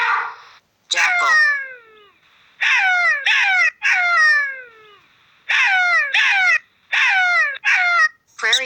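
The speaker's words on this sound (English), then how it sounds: "Jackal." A jackal gives a series of loud, wavering, high-pitched yelping howls in quick clusters, with short pauses between the bursts.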